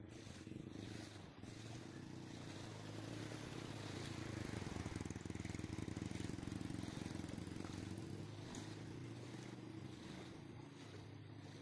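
A motorcycle engine drones steadily at close range as the bike pushes through deep monsoon flood water on a street, with a constant rumble and water wash running for the whole stretch and no pauses.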